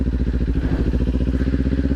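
A Kawasaki Ninja 400 motorcycle runs close by with a loud, steady, rapidly pulsing engine note that stays even throughout.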